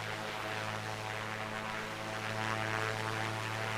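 A simulated Piper Comanche single-engine propeller plane drones steadily in flight in a flight simulator game. The engine hum is even and moderately loud, with a strong low throb, and no one speaks.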